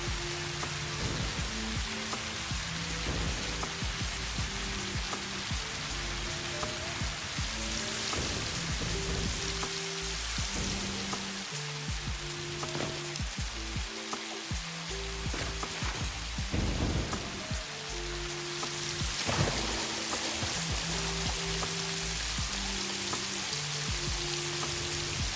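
Heavy rain in the video game Satisfactory pours down loudly and constantly, a dense hiss with occasional rumbles like thunder, under a steady low synthesized tone.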